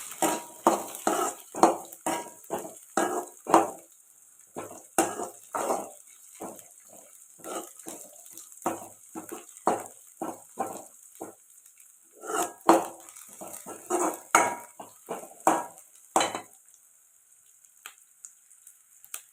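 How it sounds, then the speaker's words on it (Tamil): Garlic sautéing in a pan for pirandai thuvayal, with a spatula repeatedly scraping and clinking against the metal in irregular strokes over a soft sizzle, close and clear, fading to stillness at the end. "இந்த பூண்டோட கலருமே லைட்டாக சேஞ்ச் ஆகிற வரைக்கும் வதைக்கலாம்"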